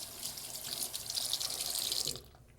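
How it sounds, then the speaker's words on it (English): Hands are washed with soap under a running sink faucet, with a steady close splash of water that cuts off sharply just before the end. "They usually go ahead and get the soap first, then turn on the faucet, and then quickly wash it."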